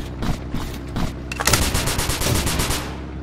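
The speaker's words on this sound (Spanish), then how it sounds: "Aquí hay la ametralladora." Machine gun fire in the browser shooter Combat Online, with a few separate shots followed by a dense fast burst of loud, close rapid gunfire lasting about two seconds, no speech over it.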